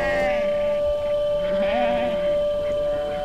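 Sheep in a farm kraal on the veld, bleating in the morning before heading out to graze, heard as a steady tonal bleat over a continuous background with faint other animal sounds.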